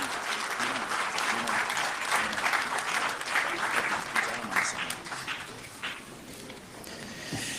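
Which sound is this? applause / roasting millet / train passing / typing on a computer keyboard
applause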